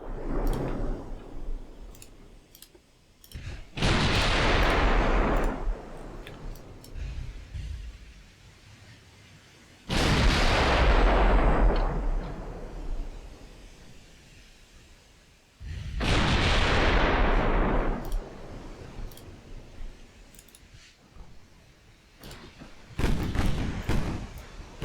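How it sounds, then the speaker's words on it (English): Warship turrets firing in the naval game Ultimate Admiral Dreadnoughts: four heavy booming salvos roughly five seconds apart, each a loud thud with a long rumbling tail, plus faint clicks in between. "See, Velasco firing all of her turrets at the moment."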